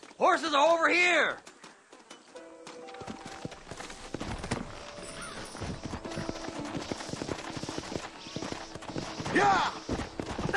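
Horse hooves clip-clop and gallop in the Red Dead Redemption video game on Xbox 360, a rhythmic patter running under a shouted voice, faint gunfire and other game sounds.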